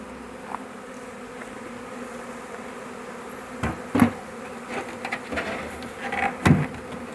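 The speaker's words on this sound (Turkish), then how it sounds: "Bu arada dışarıda uçan en azından bir çerçeve arı var arkadaşlar." Honeybees fly around outside an open hive, a steady faint buzzing swarm with a few louder passes close by and occasional light knocks in the background.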